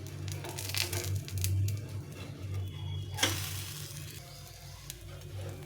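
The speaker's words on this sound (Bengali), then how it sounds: "এক সাইডে হয়ে গেছে, এটা এখন অপর সাইডটা এভাবে ভেজে নিতে হবে।" Soft sizzling crackles from a pan as a chana dal flatbread fries, with occasional scraping and light clinks of a utensil, fairly quiet and close.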